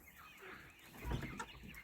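Young chickens clucking after being let out from under a coop: a busy mix of soft clucks and chirps, with a louder burst in the middle and steady farmyard background, no talking.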